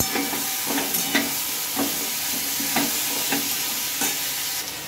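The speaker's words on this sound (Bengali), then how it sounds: "এবার এটাকে আমি ভালোভাবে সবজির সঙ্গে মিশিয়ে নেব।" Vegetables are stirred in a sizzling pan with a paste of cumin, coriander, ginger and green chili, steady frying hiss broken by regular scraping strokes roughly every half second.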